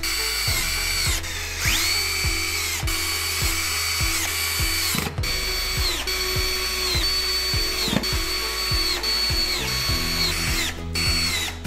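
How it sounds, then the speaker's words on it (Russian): A power drill drives self-tapping screws from a hardware kit into the side rail of a single bed frame, with repeated short whining bursts that rise and stop, interrupted by clicks and handling knocks, close and alone. "Уголок крепится вровень с торцом царги на саморезы из комплекта фурнитуры."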